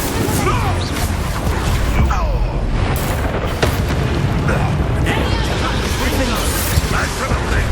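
Booming spell blasts of Bombarda from the Hogwarts Legacy video game land amid a dense, continuous wash of loud combat effects, with a voice talking over the battle.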